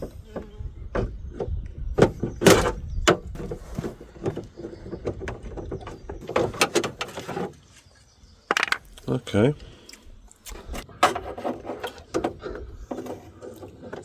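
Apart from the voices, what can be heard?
removing the door lock from a Skoda Felicia car door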